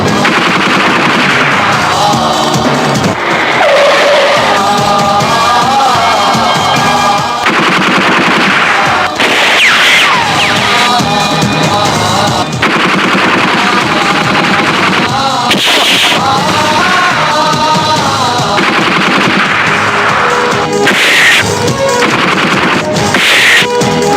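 Heavy gunfire in a Pakistani Urdu action film scene: loud, dense bursts of rapid machine-gun fire and single shots rattle almost without pause, mixed with booming impacts and dramatic music.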